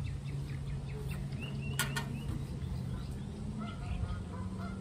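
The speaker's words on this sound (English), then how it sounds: "The geese are mocking me." Geese honk repeatedly in the distance over a steady low hum, an outdoor setting with no talk.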